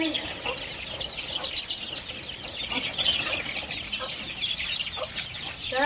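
Desi country chicks, about one month old, clucking and peeping continuously at close range as they are moved out of a brooding room, with a few brief wing flaps.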